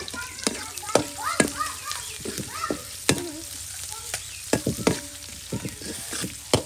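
Tilapia curry with new potatoes and flat beans is stirred in a hot pan, steady oil sizzle broken by repeated sharp scrapes and clatters of a spatula, while people talk nearby.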